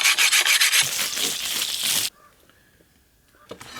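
A rusty, worn hand tool is sharpened on a diamond hone: several quick rhythmic rasping strokes, loud and close, followed by a quieter pause and a faint scrape.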